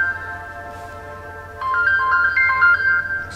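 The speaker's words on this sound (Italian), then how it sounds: "Questo è il bello della diretta, che squillano i telefoni" A mobile phone ringtone goes off during a live-broadcast talk at a ufology convention. A faint steady tone comes first, then a loud, bright melodic ring pattern starts partway through and repeats its notes without any voices.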